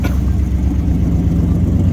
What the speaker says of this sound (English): Got her idling high while she still warmed herself up a little bit.